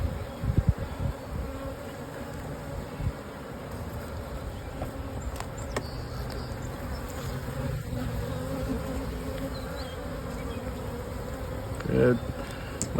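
Honey bees hum in a soft, continuous buzz around an open nucleus hive, with occasional light knocks and rustles of frames and a small rise near the end.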